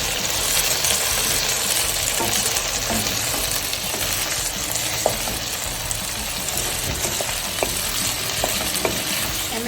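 Chicken noodles stir-fry with spring onion in a hot pan, giving off a steady loud sizzle broken by scattered scraping and tossing clatters, with no one talking.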